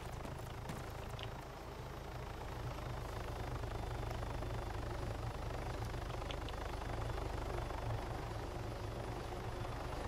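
Helicopter in the video game Arma 3, a steady loud rotor drone with engine rumble that holds throughout without letting up, no voices over it.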